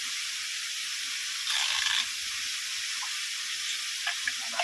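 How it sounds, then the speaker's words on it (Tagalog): Pork loin steak sizzles in olive oil in a pan, a soft steady hiss with a brief louder burst of crackling and a few faint pops. "Dinifried natin sa olive oil yung ating steak."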